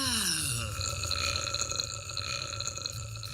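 A long, loud, resonant burp follows a gulp of soda in a Big Burp soft drink advert, starting with a falling croak and then droning close and alone for several seconds.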